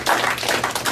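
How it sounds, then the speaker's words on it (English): A small group claps for a trainee at a training session, a short, fairly loud burst of dense hand claps lasting about a second. "Let's give Andrew a round of applause."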